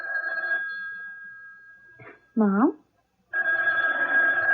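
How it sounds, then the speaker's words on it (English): A telephone bell rings in steady long bursts, with a gap between rings where a voice speaks briefly. "Why don't you answer the phone?"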